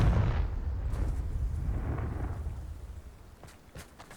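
Confringo spell blast in Hogwarts Legacy, a loud booming explosion that rumbles and fades over a few seconds, followed by a couple of faint crackling snaps.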